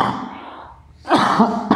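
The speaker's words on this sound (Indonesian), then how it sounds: "Abdi teh batuk bu tos 4 poe candamang." A person coughs during an Islamic religious lecture, giving a rough burst followed by a second short cough, loud and close, with no talk over it.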